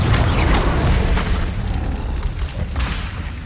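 Confringo fire spell blasts in Hogwarts Legacy, a dense, loud roaring boom with crackling burst that fills the clip and slowly tails off.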